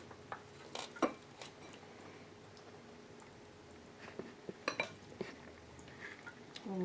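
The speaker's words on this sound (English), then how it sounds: "We're going to break through the nice cheesy surface and scoop it out into a bowl." Baked cheesy stuffed paccheri rigati pasta, vegetarian and organic, is broken through and scooped from a dish into a bowl: soft squishy scrapes and a few clinks of a metal utensil against the pan, fairly quiet and close, with no talking.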